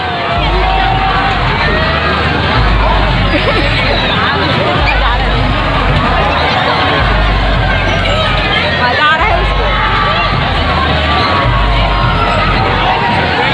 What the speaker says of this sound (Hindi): कितना चिल्लात है इसमें झूला में